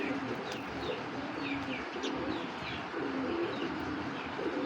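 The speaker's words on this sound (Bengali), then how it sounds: "এখন দেখতে পাচ্ছেন একটা তোতা শেপের একটা খাকি কবুতর, তোতা খাকি একটা নর" A khaki male pigeon with a parrot-like shape coos softly in a loft, low repeated coos over a busy background of chirping birds and general hum, fairly faint throughout.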